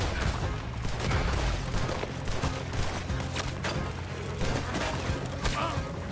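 Gunfire in a Red Dead Redemption shootout: dense, overlapping shots and bursts crackle continuously at varied distances, with louder cracks standing out over a busy, noisy battle bed.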